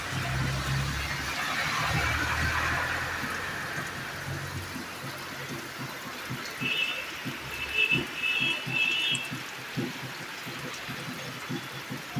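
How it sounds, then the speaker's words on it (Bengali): Heavy rain pours down in a steady, loud, continuous wash, with a few faint beeping tones surfacing partway through. "জোরে বৃষ্টি হচ্ছে"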